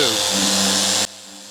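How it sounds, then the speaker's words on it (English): A steady high-pitched whirring of a random orbital sander on wood runs loud and continuous for about a second, then cuts off abruptly to a quieter hum. "In random orbital, it's much easier to control, but of course it's not nearly as aggressive sanding action."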